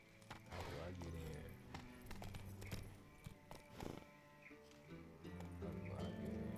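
Roach, a horse in Witcher 3, trotting with a steady clip-clop of hooves under game music and ambience, the hoofbeats close and continuous throughout.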